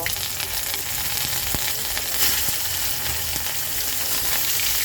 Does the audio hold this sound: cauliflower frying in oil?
yes